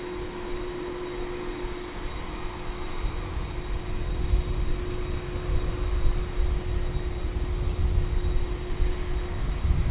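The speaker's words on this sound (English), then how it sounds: "the mighty MD-11" A McDonnell Douglas MD-11 at DFW Airport, its jet engines a broad distant roar that swells slowly and steadily louder over a constant whine.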